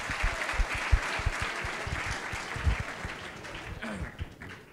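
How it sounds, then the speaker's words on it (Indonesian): Audience applause at a live talk event, a steady wash of many hands clapping that fills the room, with a few sharper individual claps standing out and fading slightly toward the end. "Ya boleh tepuk tangan dulu"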